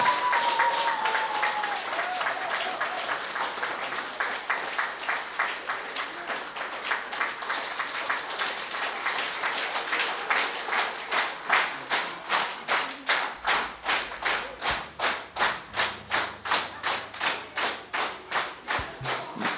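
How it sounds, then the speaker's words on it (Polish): Concert audience applauding a women's day performance by a band, broad applause that settles into loud rhythmic unison clapping with regular beats, close and sustained, calling for an encore. "Wielkie brawa, prosimy o bis."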